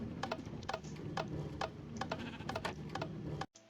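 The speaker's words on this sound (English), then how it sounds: "Okay, sheep is going around in circles." Sheep in the Minecraft video game bleat in a steady run of short, repeated cries over a soft background, clear and close, ending abruptly in near silence.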